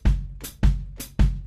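Drum-kit shuffle played by the feet alone: a deep bass drum thump on each beat alternating with a crisp foot-closed hi-hat chick on the upbeat, three bass hits and two hi-hats, close and loud with no talking.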